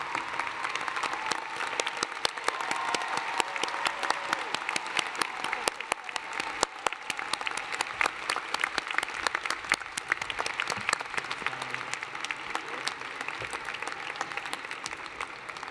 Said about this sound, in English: graduates from the classes of 2020, 21, and 22 and their guests can applaud you